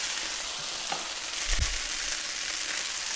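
Meatballs fry in butter and oil with a steady bright sizzle, a few soft pops and a brief low stirring thump, close and constant throughout.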